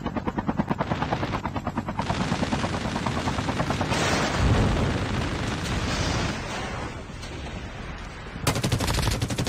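Helicopter in a video game battle royale match, its rotor thumping loud and close while heavy gunfire and explosions crowd the mix, with a brief dip before the din surges again.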